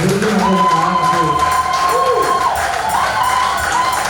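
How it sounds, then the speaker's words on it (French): A church congregation cheering and shouting in acclamation of the Lord, a loud continuous crowd roar with raised voices and some clapping. "Acclamons le Seigneur."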